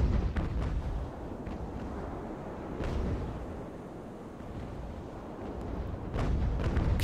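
Cannons firing grape shot in the Ultimate Admiral: Age of Sail naval battle game, a constant heavy rumble of distant fire with a few sharper cracks standing out over it.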